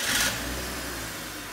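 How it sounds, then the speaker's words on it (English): A BMW 528i car engine starting from cold, a brief cranking burst followed by a steady, fairly loud idle rumble. "We'll start it. Pretty cold start."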